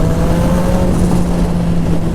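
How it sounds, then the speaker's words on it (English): A 300HP turbo Hayabusa motorcycle engine roars loud and close, turbo spooling with a steady whine over a dense engine rumble and HKS blow-off valve character, no talking. "It's got an HKS super sequential blow-off valve. You can really hear it spool."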